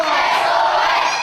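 A loud, dense crowd of wrestling fans chanting for SOS, a brief steady wall of shouting voices close and unbroken.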